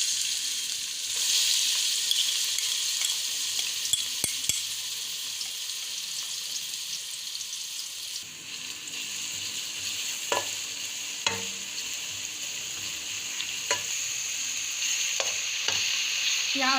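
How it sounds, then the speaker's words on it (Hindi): Onions fry in about half a cup of hot oil seasoned with salt and turmeric for a fish curry, a continuous close sizzle broken by occasional utensil clinks and stirring. "अब इसमें हम प्याज डालेंगे"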